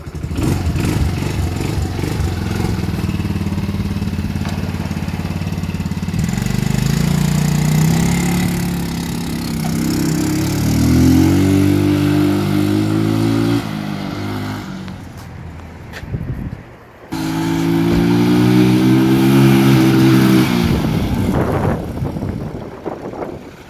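Linhai 150cc engine running with a steady loud droning hum that rises in pitch a couple of times, dips briefly, then revs back up, close by.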